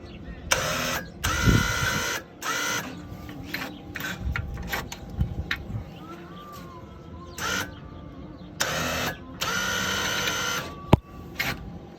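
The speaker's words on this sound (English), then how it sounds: "ignition on, give the winch a test" Electric winch on an Arctic Cat 300 4x4 ATV runs in several short bursts, with a whirring, rasping motor and brief pauses between the pulls.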